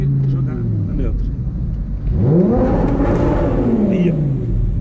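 An Audi R8 engine revs up loud and close, its pitch sweeping upward then falling, with a steady rumble and a brief lower drone beforehand.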